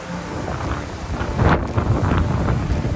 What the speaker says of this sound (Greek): Φυσάει όμως πάρα πολύ.